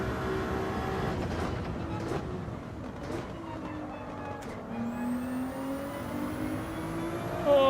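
A race car engine revving in Gran Turismo 7, a rising and falling engine whine with gear shifts, moderately loud, and a voice speaking briefly over it.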